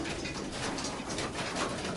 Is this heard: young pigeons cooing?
yes